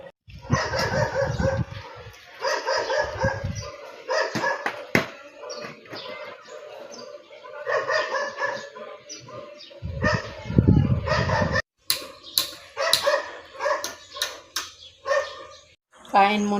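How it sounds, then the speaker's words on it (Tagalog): A dog barks repeatedly at a home where a corrugated metal fence is being built out back, heard in short bursts through steady talking, with a rooster crowing in the background. "Maingay yung aso."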